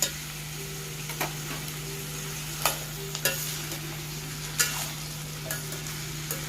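Beans and beetroot are stirred in a pan with plenty of water, a soft simmering bubble under a low steady hum, broken by several sharp spoon taps against the pan at irregular intervals.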